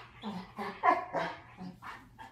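A dog throws a tantrum over food, giving a string of short, close barks mixed with whiny yips and whimpers in uneven bursts.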